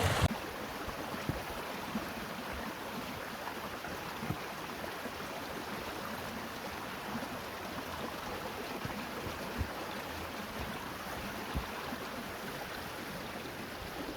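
A Dartmoor stream near a clapper bridge gives a steady, close rush of flowing water with faint splashy texture and no talk.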